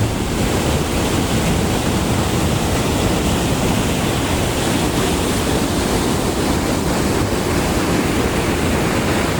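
Powerful water falling and rushing over rocks, heard as a loud, continuous broadband roar that stays steady from start to finish with no voices.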